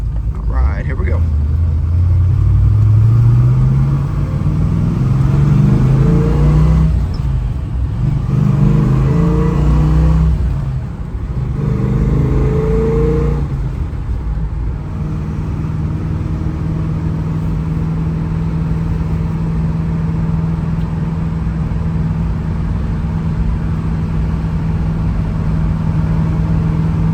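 A 1968 Chevrolet Camaro Z/28 on a test drive, its engine rumbling and revving up through several accelerations before settling into a steady cruise drone, heard from inside the car with occasional speech.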